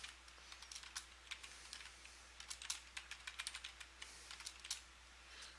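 Quiet, close typing on a computer keyboard while entering a directory path: an uneven patter of light key clicks, some in quick runs and some spaced apart, over a soft background hum.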